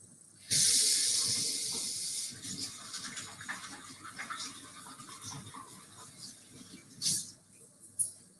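Tap water running steadily while hands are washed in a kitchen, starting abruptly with a bright hissing gush that fades and tapers, with light clatter and a couple of brief splashes near the end.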